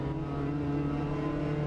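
A racing car engine in a sim racing game holds a steady, loud, droning tone with even harmonics at Oulton Park Island, alone without talk.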